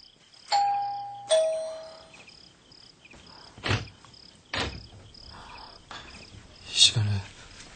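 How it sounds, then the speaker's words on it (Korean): A two-tone ding-dong doorbell rings clearly in a Korean radio drama, the two chimes close together and ringing out, followed by quieter scattered thumps and faint movement sounds. "초인종이 울린 건 그때였다"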